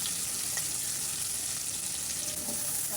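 Chopped onions with turmeric, chili and coriander powder frying in hot oil in a pan, a steady close sizzle with faint stirring scrapes throughout.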